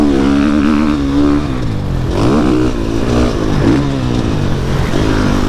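A 2021 GasGas MC450F dirt bike engine revving on a test ride, loud and close, its pitch rising and falling through repeated throttle blips with no voices.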